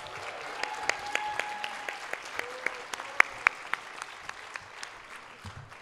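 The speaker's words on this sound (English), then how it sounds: "Can I have a round of applause for our beautiful SGA," A round of applause at a college commencement ceremony crackles with distinct individual claps over a softer crowd, fairly close and lively, tapering toward the end.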